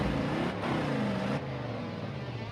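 A 1971 Plymouth 'Cuda muscle car engine accelerating, a low, rumbling drone that rises steadily in pitch and eases slightly after a brief shift, heard from inside the car at moderate level with no talk.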